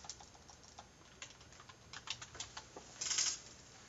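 Light clicking keystrokes on a computer keyboard during Java programming, irregular taps building to a quicker burst near the end, quiet and close with no voices.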